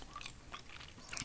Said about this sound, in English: They're very sticky and chewy. And soft.